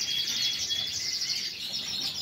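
A small white pet bird, one of a set of show birds, chirps in a steady stream of high, bright twittering calls, fairly close and continuous with no talking.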